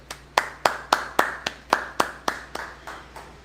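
A congregation at a Sabbath service in Indianapolis claps in unison, about a dozen sharp, evenly spaced claps in a steady rhythm, close and clear with no talking.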